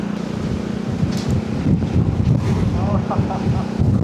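Strong wind buffets the microphone while riding a Zontes 400E motorcycle past rice fields, making a continuous loud rumbling roar.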